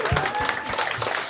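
Audience applause for comedian Finn at a stand-up comedy gong show, a short dense burst of clapping with some crowd noise and a voice faintly underneath.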